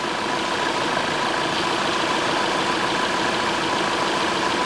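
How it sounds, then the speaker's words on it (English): A car's air-conditioning compressor runs quietly beneath a steady idling engine, a continuous, even mechanical hum and whir with no pauses or voices, recorded during a repair for an AC that had been blowing hot air. "the AC compressor, I'm sure you can hear it, it's a lot quieter now"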